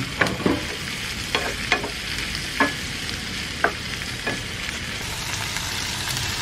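Garlic, onion and tomato sautéing in a pan with a continuous sizzle, broken by several irregular scraping and clinking strokes of a spatula.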